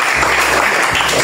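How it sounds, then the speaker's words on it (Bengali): Students in a classroom break into loud, dense applause that is close and continuous throughout the brief moment. "হাততালি দাও এর জন্য।"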